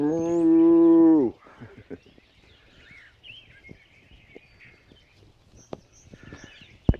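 A single loud, close cow moo on a farm opens the scene, followed by quieter farmyard sounds and faint bird calls.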